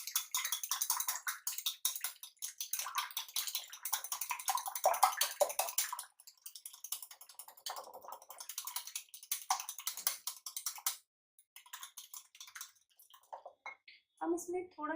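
Three eggs being whisked in a bowl, a quick run of close, light clicking strokes that pauses briefly, resumes, then trails off into a few scattered taps.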